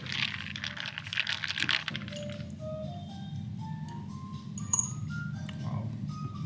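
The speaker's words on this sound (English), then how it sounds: "So we're gonna have to give this a stir for sure." A spoon clinks against a glass while stirring a drink sweetened with condensed milk at a cafe in Ho Chi Minh City, producing light, faint chinks over background chatter and a steady low room hum.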